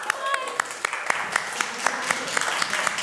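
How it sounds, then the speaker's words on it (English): An awards ceremony audience breaks into applause, a continuous crowd clapping with some sharp individual claps standing out over the wash, at moderate volume. "Give them a round of applause, everyone."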